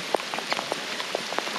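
Steady rain falls during a Harley-Davidson ride on the Pacific Coast Highway, a close, dense hiss with scattered sharper drops pattering throughout, no talking.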